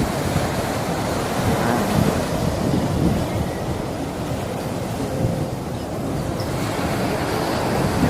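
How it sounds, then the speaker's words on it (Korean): Continuous roar of winter surf rolling onto the shore at Gangneung, mixed with blustery wind buffeting the microphone, with no voices. "바다 소리 한번, 파도 소리 한번 들어보세요."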